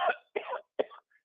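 A man coughs three times in quick succession during a radio broadcast, short dry bursts with brief pauses between them, close and fairly clear.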